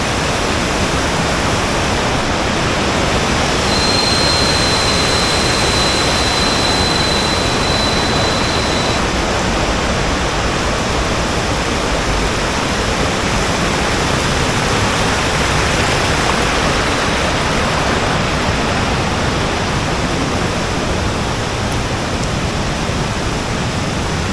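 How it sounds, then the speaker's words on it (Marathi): A loud, steady roar of a large waterfall's heavy falling water rushes on without a break, close and continuous throughout. "तो तिकडे खाली मोठा धबधबा आहे"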